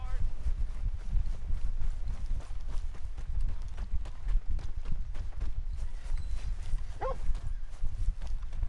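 Horse hooves clip-clop at an even walking pace throughout a Red Dead Redemption 2 scene, a steady rhythmic patter beneath game ambience, with a short whinny-like call near the end.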